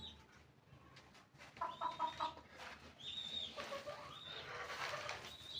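Several chickens cluck and murmur close by in a quiet indoor space, with short rising calls overlapping in irregular bursts and no talking.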